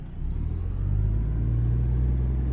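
Peterbilt day cab truck in a driving game pulling away in low gear, its diesel engine giving a steady, close, deep rumble that swells slightly and holds, with no talk over it.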